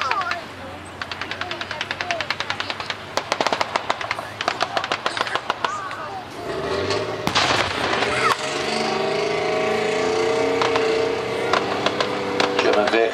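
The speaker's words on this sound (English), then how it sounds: "German vehicles manoeuvring on the battlefield" German WWII vehicles manoeuvring on a reenactment battlefield, loud rumbling engines under bursts of rapid crackling gunfire, with a heavier roaring vehicle passing in the second half.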